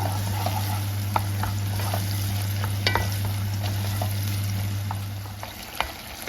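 Tomato paste fries in a pan for a bean and meat stew, making a steady sizzle with scattered stirring clicks and a constant low hum underneath.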